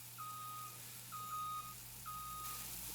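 Truck reversing alarm in Farming Simulator 19, three steady electronic beeps spaced about a second apart over a constant engine hum, moderately loud and alone with no talk.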